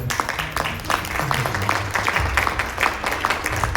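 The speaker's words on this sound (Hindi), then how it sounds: "तो जोरदार तालियों के साथ मैं चाहूंगा कि उनका स्वागत किया जाए।" Audience applause welcoming a guest on stage at a Hindi-language corporate health event, a steady dense wash of clapping that continues at even loudness throughout.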